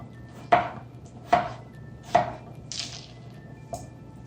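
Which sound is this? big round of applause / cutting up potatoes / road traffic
cutting up potatoes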